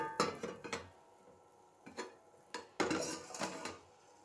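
A cooking pan is handled during stovetop preparation of a semolina breakfast snack, giving a quick series of metallic clinks and knocks, then a pause, then several louder clanks close by as a lid is set back down.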